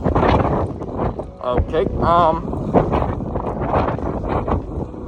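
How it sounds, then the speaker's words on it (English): Gusty wind buffets the microphone on the open upper deck of a cruise ship in the Bahamas, a steady low rumble running throughout while a person talks over it. "The wind up here, it gets more hurried upstairs."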